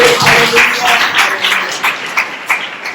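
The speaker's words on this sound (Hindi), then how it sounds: "ताली बजाइए" A congregation at a Sunday church service claps hands together in a loud, fairly steady patter that fills the room, with a voice faintly mixed in.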